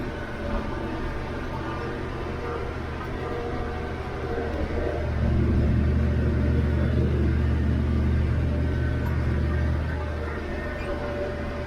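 Massey Ferguson 1105 tractor running in multi-power high range first gear while cutting hay, a steady low engine rumble that swells louder about halfway through and holds before easing slightly.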